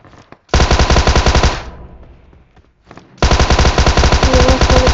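Two long bursts of rapid automatic gunfire in a video game, loud and close, separated by a short quiet gap with a few faint scattered shots.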